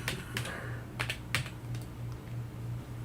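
Typing on a computer keyboard during a trading card break: scattered key clicks come in small clusters over a steady low hum, close and moderate in level.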